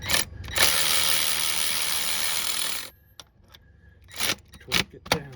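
A hand ratchet drives in the harmonic balancer bolt on a car engine, giving a steady run of rapid clicking for about two seconds, then a pause and a few short bursts of clicks and metal clinks.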